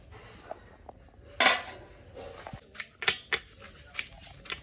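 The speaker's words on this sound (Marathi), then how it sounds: "ये तो क्या में खाना बनाने का तैयार ये प्याज काट रहा है" A knife chops onions in a small kitchen, a few sharp taps and knocks spread irregularly with one louder clatter of utensils, fairly close and with no talking.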